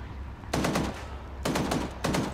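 Bursts of automatic machine gun fire in a Vietnam War video game, three rapid rattling volleys separated by short pauses, loud and close.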